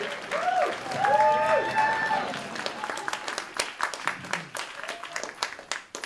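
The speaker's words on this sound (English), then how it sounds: "Start clapping, please." An audience at a stand-up comedy show claps for comedian Tor Braithwaite's introduction. A host's voice comes first, then the crowd's applause builds into a steady patter of many hands.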